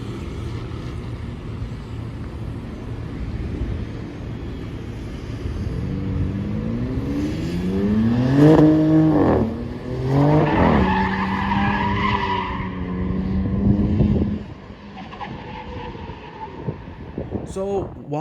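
A Dodge Charger Outlaw with a six-pack engine drives past: a loud engine climbs through rising and falling revs with tire squeal in the middle, then fades, while a voice talks over it.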